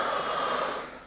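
A person draws one long, deep inhale through the nose and mouth during a guided breathing exercise, a steady airy rush lasting about a second that tapers off at the end, close and fairly quiet.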